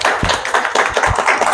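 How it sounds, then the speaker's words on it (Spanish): A small audience applauds a cover illustrator at a magazine launch event, a short burst of close, fairly loud hand claps with uneven rhythm. "Un aplauso."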